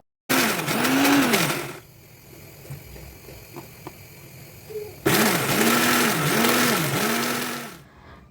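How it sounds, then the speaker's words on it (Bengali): A kitchen blender grinds pointed gourd (potol) peels into a paste in two loud bursts with a pulsing, whirring motor, separated by a quieter pause with faint household background. "এখন আমি পটলের ছিলকাগুলো ব্লেন্ড করে নেব"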